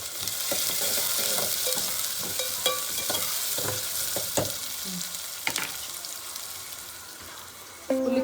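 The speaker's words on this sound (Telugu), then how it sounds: "కొంచెం ఉప్పు వేస్తాను సో దట్ ఆనియన్ మంచిగా మగ్గుతుంది" Sliced onions with a pinch of salt frying in a pan, a steady close sizzle with scattered scraping and stirring clicks throughout, no voices.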